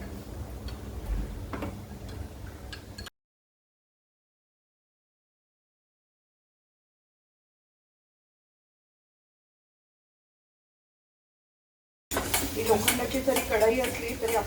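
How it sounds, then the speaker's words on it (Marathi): A spoon whisks two spoonfuls of yogurt in a bowl, making quick, light ticking and clinking against the dish, heard at the start and again after a long silent gap, with faint voice-like sounds alongside. "मी दोन चमचे दही घेतले आपल्याला चांगलं फेटून घ्यायचं आहे"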